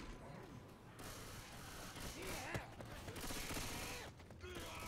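A weapon reloads in Left 4 Dead with clicking mechanical clacks and ratcheting amid scattered gunfire and game noise, while voices speak over the action.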